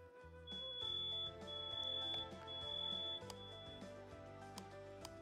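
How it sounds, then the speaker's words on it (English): A sensitive fire alarm beeps in a room with faint, high, intermittent tones over a quiet background hum, with no one speaking. "Our fire alarm is extremely sensitive."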